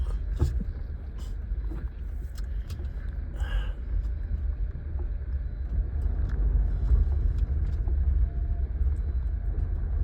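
A car drives along a dusty dirt road, heard from inside with the windows up as a continuous low engine and road rumble, steady and enclosed, with faint rattles and no speech.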